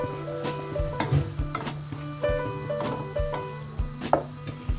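Frozen homemade meatballs dropping into a pan of spaghetti sauce, giving a close, soft sizzle with scattered taps and knocks of utensils against the pan, over a steady low hum from a nearby appliance.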